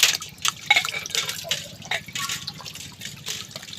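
Water splashes and trickles in uneven bursts close by, with drips and clinks, like dishes being rinsed under running water.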